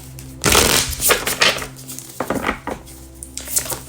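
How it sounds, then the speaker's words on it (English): Tarot cards being shuffled by hand during a Pisces reading, giving several close, crisp riffling and slapping bursts of paper cards with short pauses between them and no talking. "One more shuffle."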